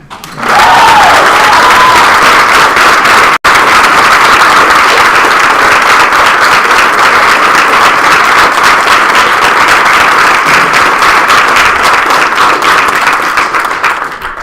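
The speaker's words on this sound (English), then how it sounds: "One more round of applause for Sam." An audience applauds for Sam at an awards event, a loud sustained wash of clapping that holds steady for over ten seconds and tapers slightly at the end.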